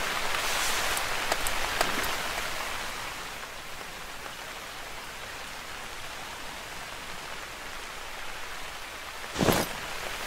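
Constant rain pours in the hunting video game Hunter: Call of the Wild, a broad steady hiss with a few brief louder spatters near the start and a short burst near the end, no voices.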